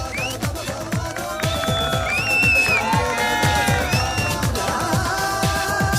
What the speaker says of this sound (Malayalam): ഹരി, നല്ലൊരു കൈയടി എടുക്കാം, നല്ലൊരു കൈയടി